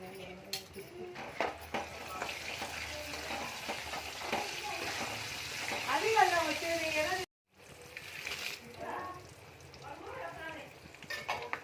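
Dried red chillies dropped into hot oil with urad dal in a pan for pulihora tempering, crackling and sizzling close by with clinks of a spoon against the pan and a brief cut midway.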